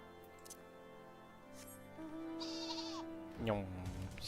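Sheep bleat in an online video game, a few drawn-out wavering cries, one near the middle and a louder one toward the end, over a quiet tonal music bed with no talking.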